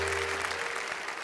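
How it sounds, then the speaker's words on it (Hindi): Audience applause at a Hindi comedy show, a steady dense wash of clapping that holds level through the whole short stretch, with a low electrical hum underneath at the start. "भाई जोरदार तालियों से स्वागत करें।"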